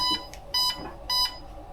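Three short, high electronic beeps sound from an airsoft M4 rifle, evenly spaced about half a second apart and clear in a quiet room, signalling its battery setting.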